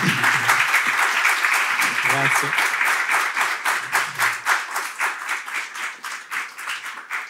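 An audience applauds at the close of a talk on generational conflict with an economist. The dense clapping holds steady, then thins into slower, separate claps, with a brief spoken word of thanks and some talking at the start.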